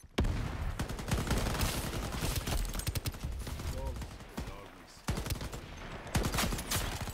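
Gunfire from the Pacifier Neon XM in the video game Shatterline crackles in rapid bursts, with dense volleys and brief gaps between them. The shots are loud and sharp against a busy game soundscape.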